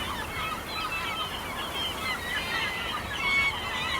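Gulls calling at a nesting site on an island in the Caspian shallows, a dense chorus of overlapping honking, squawking cries at moderate distance, continuous throughout.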